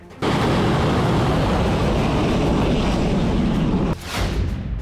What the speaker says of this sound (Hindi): पहली बार डांसिंग मिसाइल से प्रहार।